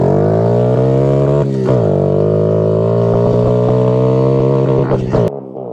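A Honda ATV engine drones loudly and close as it accelerates on a lap, holding a strong steady tone with slight shifts before cutting off abruptly near the end.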